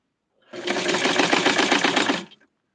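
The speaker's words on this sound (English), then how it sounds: "I'm going to sew the sleeves." Close and loud, a sewing machine runs in one steady burst of about two seconds of rapid stitching along the sleeves of a tweed suit for a Barbie doll, alone with no talk.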